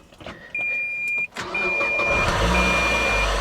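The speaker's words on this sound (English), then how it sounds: "Let's fire it up." A limited-edition Mazda Miata engine cranks and catches after a steady electronic beep, then settles into an uneven, rough-running idle.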